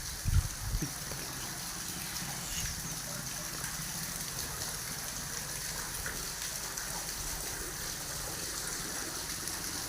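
Continuous flowing spring water, a steady trickling rush without pause, with a brief knock near the start; no speech.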